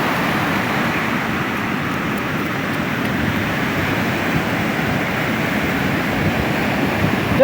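Ocean waves breaking on Sendang Barang beach where children play in the surf, heard as a continuous loud roar of surf with no pauses and no talk.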